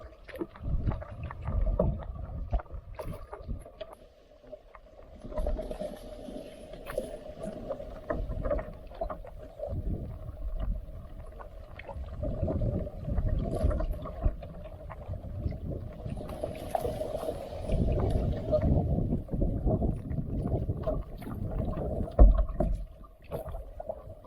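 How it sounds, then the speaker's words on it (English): Canoe paddling on the Oswegatchie River in rain after a storm, with steady strokes and water swirl alongside continuous wind and rain noise over the full stretch, fairly close, with no talking. "I'm pretty sure that I am paddling up to the boat launch right now."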